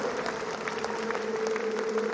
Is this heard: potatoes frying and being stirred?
no